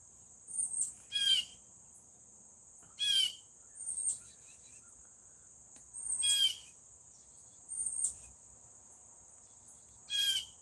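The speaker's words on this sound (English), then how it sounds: "You hear all them birds chirp" Short bursts of high, shrill hummingbird chirping repeat every second or two over a quiet outdoor background, fairly faint and alone.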